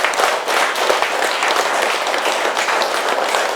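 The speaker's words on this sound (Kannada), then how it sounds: "ಆ ಮಹಾನ್ ಚೇತನಕ್ಕೊಂದ್ಸಾರಿ ಜೋರಾದ ಚಪ್ಪಾಳೆ" An audience claps loudly and continuously at an Ugadi new year festival celebration, a dense, even burst of applause with no voices over it.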